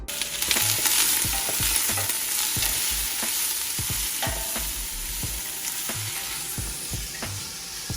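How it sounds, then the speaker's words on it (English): Onions sauté in hot oil in a pan for pumpkin soup, with a bright, steady sizzle broken by regular clinks and scrapes of a utensil stirring about once a second, close up and without talk. "I think it's about ready to saute these onions, and then we're gonna throw in the garlic."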